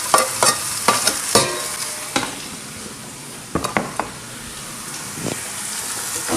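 Onion and bell pepper frying in a pot for Cajun rice and gravy, a steady sizzle broken by sharp scraping and clanking spoon strokes, close and fairly loud with no talk.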